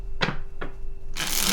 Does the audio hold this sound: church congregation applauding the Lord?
no